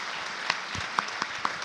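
Warm applause from an audience at a tribute to Danilo Gutiérrez during a national cooperatives gathering, a short stretch of steady clapping with a few sharper claps standing out.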